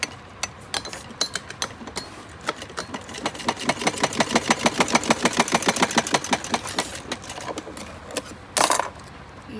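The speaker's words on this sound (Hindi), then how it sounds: "इसकी हमें सिलाई लगानी है इस तरीके से।" A sewing machine stitching a small dress for a Laddu Gopal idol runs in a fast, even mechanical chatter that speeds up and then slows, with a brief clunk near the end, close and loud without speech.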